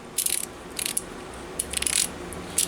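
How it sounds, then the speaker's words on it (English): Plumb 1/2-inch ratchet wrench clicking in short bursts of fine, rapid pawl ticks, close up, with brief pauses between turns. "so that's the plumb wrench. That works really nicely."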